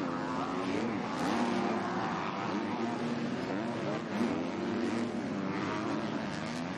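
MX2 motocross bikes racing at a British track, engines droning and revving continuously as riders fight side by side, with a commentator talking over the noise.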